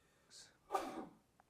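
A single quiet sneeze: a short sharp intake of breath followed by an explosive burst, then silence.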